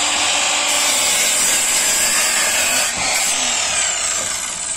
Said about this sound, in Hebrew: מסור נייד, מיוחד, קטן, עוצמתי